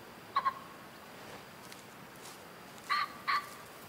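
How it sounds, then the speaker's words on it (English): An odd bird calling in the hunting game Way of the Hunter, giving paired short clucking squawks, one pair early and another pair near the end, moderately loud over soft natural ambience with no speech. "Oh, it's like a weird bird."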